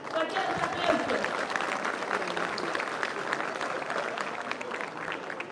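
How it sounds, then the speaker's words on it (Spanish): Audience applause for a jury member at a 2022 town queen election event in San Mateo, Valparaíso, Zacatecas: dense, steady clapping from a large crowd throughout, with some voices mixed in. "Fuerte los aplausos"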